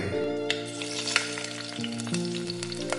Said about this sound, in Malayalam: ചീനച്ചട്ടിയിൽ എന്തോ വറുത്തു കോരുകയാണ് സുദേവ്